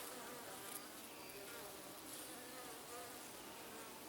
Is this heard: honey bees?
yes